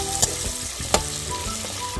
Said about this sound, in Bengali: পেঁয়াজটা হালকা লাল লাল করে ভাজতে হবে।